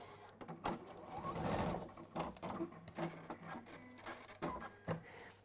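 A sewing machine tacking fabric tabs in place within a quarter-inch seam allowance, quiet short bursts of stitching with clicks and pauses between runs.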